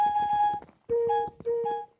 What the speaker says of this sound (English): apparently this clay block is a flute or something.